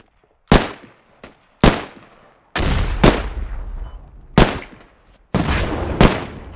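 Gunfire in the video game Squad: a string of loud, close shots, some single and some in quick doubled bursts, each with a sharp attack and a long echoing tail, about nine reports spread irregularly across the stretch.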